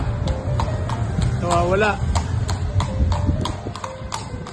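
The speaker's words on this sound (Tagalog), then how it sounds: "Grabe, kabayo. Nasa karsada." Horse on a street, hooves clip-clopping in a steady rhythmic series of sharp close knocks, with a brief whinny partway through and a person speaking briefly over it.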